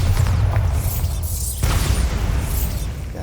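Bombarda blasting spell in Hogwarts Legacy: a loud, rumbling explosion with a sharp burst partway through, set against dense low booming.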